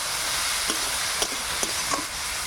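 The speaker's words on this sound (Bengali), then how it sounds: "এবার দেব ভেজে রাখা গাজর আর শাক, একসঙ্গে মিক্সচার করে দেব।" Fried carrots and greens are mixed together in a hot pan, a steady loud sizzle with a few light scraping stirs breaking through, close up and continuous.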